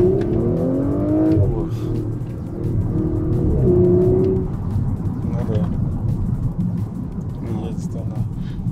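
An Audi S4 fitted with new small oval exhaust tips revs up and down, the engine and exhaust note rising in clear sweeps before settling into a low rumble, with voices talking over it.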